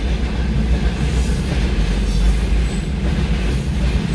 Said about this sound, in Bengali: এটা হচ্ছে মালবাহী একটা রেল গাড়ি।